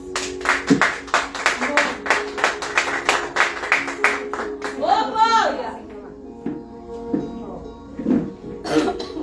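A church congregation at a women's worship service claps in quick rhythmic bursts, with voices and cheering mixed in before the clapping thins out into scattered sounds.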